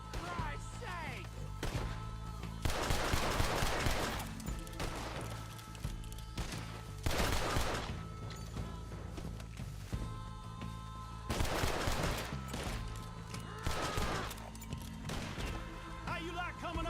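Repeated gunshots ring out in a Red Dead Online shootout near Rhodes against raiders, with bursts of rapid fire spaced across the stretch over constant background game sound.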